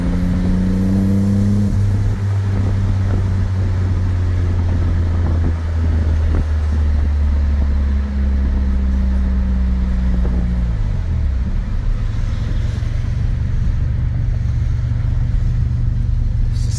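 A 1986 Nissan 300ZX Turbo fitted with a Greddy turbo drives along, its engine droning loudly and steadily from inside the car, with revs falling through a smooth gear change partway through, over constant road and wind rumble.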